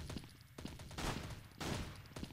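Bursts of gunfire from the online shooter game Blood Strike, with two or three loud volleys in quick succession over a steady background of game noise.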